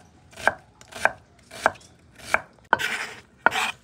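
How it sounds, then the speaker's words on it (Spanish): A knife chops a medium onion on a board in six sharp, separate strikes spaced about half a second apart. The fifth and sixth cuts carry a longer crunchy tail. The sound is close and clear, with no talking. "Vamos a picar la cebolla. Esta es una cebolla mediana."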